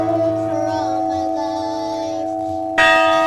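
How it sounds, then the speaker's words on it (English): A bell rung at a county commissioners' meeting gives a sustained, ringing tone that slowly fades before a fresh, louder strike near the end. "We think it's wonderful to have them ring our bell first."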